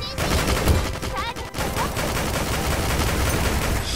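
Rapid, dense gunfire bursts from the Dead or School video game crackle almost continuously for several seconds, loud and close, with a voice partly mixed in underneath.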